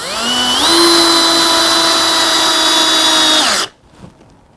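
A Bosch GSR 1080-2-LI cordless drill driver runs while driving a screw, giving a loud, steady motor whine that rises slightly in pitch early on, then winds down and stops, leaving near silence.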